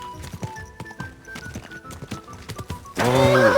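Horse hooves clip-clop in a steady walking rhythm within the medieval video game Kingdom Come Deliverance II, close and clear, before a loud voice breaks in near the end.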